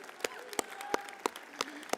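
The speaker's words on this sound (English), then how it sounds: "give yourselves a round of applause" At a drama school commencement ceremony, graduates give a few distinct, separated claps at a regular beat over soft crowd murmur and a faint voice.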